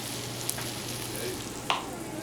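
Onions and garlic fry in a pan for an asparagus sweet potato soup, giving a low, even sizzle that holds steady throughout, with a couple of soft clinks from a utensil and no talking.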